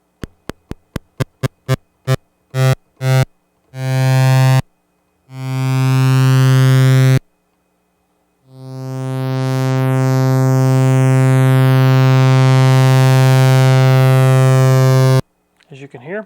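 Restored Minimoog synthesizer playing a series of short plucked tones that lengthen into sustained notes with a slower attack, swelling in loudness, with brief pauses between them; no talking.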